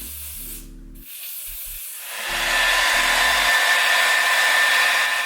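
A hair dryer blows steadily on wig glue, a broad rushing hiss that rises to a loud, even roar and holds, with a low electrical hum beneath it at the start.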